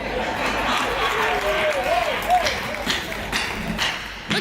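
Audience applause at a Hindi comedy stage show, a steady broadband wash of clapping heard at moderate level with a voice and background murmur mixing in throughout.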